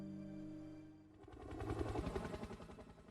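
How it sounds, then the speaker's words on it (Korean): Police helicopter in a horror survival film, its rotor thudding rising from quiet into a loud, rapid chopping pulse over the last two seconds. "경찰 헬기가 케빈이 타고 왔던 보트를 발견하게 되고"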